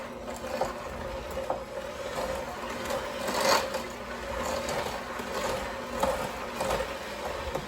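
Electric mixer whirring steadily while flour is worked into cookie dough, with a moderate, continuous mechanical drone and faint rhythmic clatter throughout.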